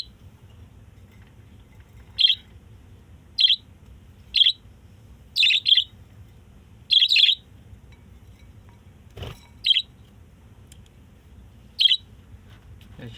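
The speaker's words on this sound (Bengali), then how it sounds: "এখানে মোট ৬টি পাখি রয়েছে, যেগুলো অনেক সুন্দর। এরা চেঁচামেচি করে খুবই।" Caged birds give short, sharp chirps in scattered single and paired bursts over a quiet background hum, fairly close and clear.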